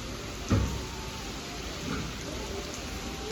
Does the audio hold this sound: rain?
yes